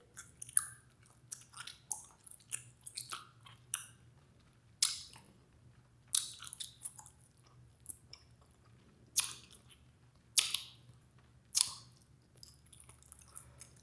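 Bubblegum chewed close to the mouth, with wet squishy smacks and clicks at irregular intervals, some louder snaps standing out against a quiet low hum.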